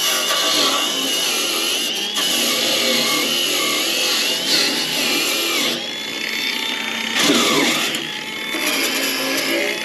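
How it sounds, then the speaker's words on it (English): An angle grinder works steadily over a field weld on a broken tractor bucket hook, knocking off slag. The whine is loud and continuous at close range, with brief dips as the disc lifts from the metal. "I hit it with a grinder and the slag just peeled right off it"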